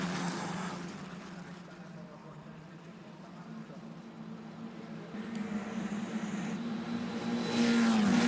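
Formula 4 race cars roar past at Monza during a restart, with a sustained engine drone that builds toward a rising, louder whine at the end, under faint commentary.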